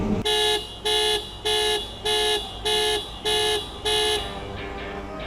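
A 2022 Ford Ranger pickup truck horn, triggered remotely, honks eight times in a steady, evenly spaced rhythm, loud and nearby, then stops, leaving a low hum.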